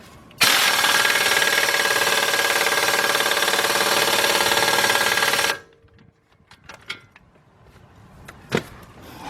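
Power tool, likely an impact wrench, tightening a bolt on the left front axle of a 2006 Kia Sorento LX, one loud steady whir of about five seconds followed by quiet shop clinks and small knocks.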